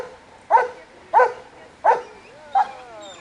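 A large dog barks four times at an even pace, each bark a short, clear, moderately close woof, the last one softer and trailing into a faint whine.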